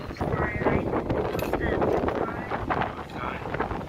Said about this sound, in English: You're freaking absolutely windy as hell now.